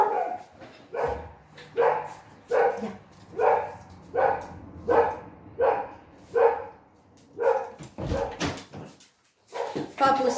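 Dogs bark repeatedly in a steady series of loud, close barks, roughly one per second, with a short pause near the end before barking resumes.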